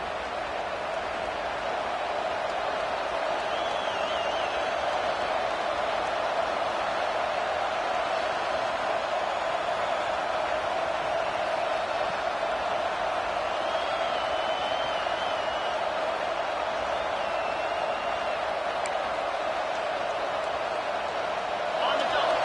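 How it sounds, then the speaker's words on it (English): Home stadium crowd roar in a college football video game between Ohio State and Auburn, a steady, dense wash of noise held at a constant level throughout with occasional faint whoops rising above it. "this home crowd is fired up and ready to make a difference today"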